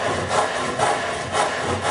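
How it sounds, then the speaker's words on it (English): A handsaw cuts a plumb cut on the bevel of a wooden hip rafter during roof framing, giving loud, close, rhythmic rasping strokes, about four in under two seconds, with no talking. "As you're cutting the hip plumb cut on the bevel,"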